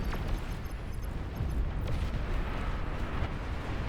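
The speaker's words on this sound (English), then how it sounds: "The long-range plasma cannons" Long-range plasma cannons fire in a large real-time strategy battle, a dense rumbling barrage of booms and bursts that rolls on without letup, loud and thick at the low end.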